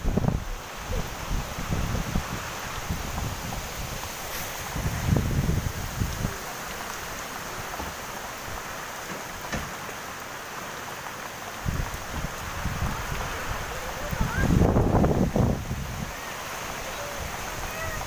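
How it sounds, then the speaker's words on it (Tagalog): Strong typhoon wind (Typhoon Rolly) in Laguna, Philippines, roaring and buffeting the microphone in gusts, with rustling and rumbling swells, steady and loud throughout. "so kung rinig niyo yung hangin, sobrang lakas"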